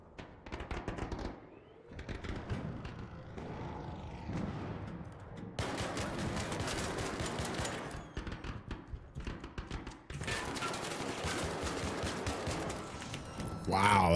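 Bursts of gunfire from a weapon in the video game Arc Raiders, loud repeated volleys in several clusters with short gaps between them, a voice speaking over parts of it.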